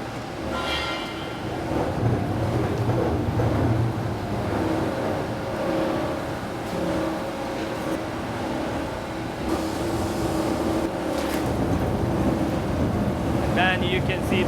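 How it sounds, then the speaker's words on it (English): A Montalbano Copper Eco 500P copper wire recycling machine, its rotor and knives chopping wire fed in by conveyor, produces a loud, continuous mechanical roar with a rumbling low end throughout. "Then you can see the rotor and the 66 knife, which cut everything and reduce in a smaller pieces."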